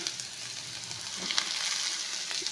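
Onions and curry leaves sizzling steadily in hot oil for a tempering, a close, continuous crackling fry with faint stirring and no voices.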